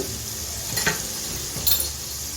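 Bottle gourd peel fries in a pan with salt and turmeric over a medium flame, a steady, close sizzle throughout, broken by two soft scrapes of a spatula stirring the pan.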